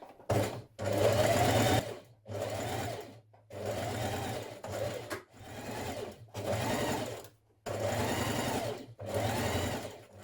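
A sewing machine stitches a dress bodice seam in steady runs of rapid whirring, about seven bursts separated by brief pauses, close and clear with no talking.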